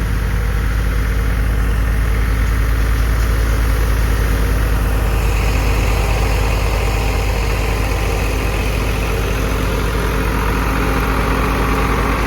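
A Mahindra tractor engine runs at a steady low idle, loud and close, a constant heavy drone with faint rattling vibration and no talk.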